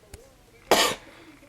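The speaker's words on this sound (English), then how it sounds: "Stupid cough." A single sharp cough bursts out after a brief quiet pause, loud and close, with a faint tap just before it.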